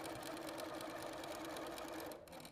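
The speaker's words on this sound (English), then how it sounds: "So I'm going to sew these 2 on." A sewing machine stitching quilt triangles runs in a fast, even mechanical whir, close and steady throughout, then slows and stops near the end, with no talking.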